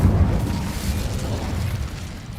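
A fire spell cast in the Hogwarts Legacy video game, a loud, steady whooshing roar of flame that fades slightly, with no voices.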